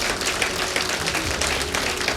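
A live comedy-show audience applauds a volunteer named Brett on stage, loud, dense and continuous clapping from a crowd that fills the room at a steady level.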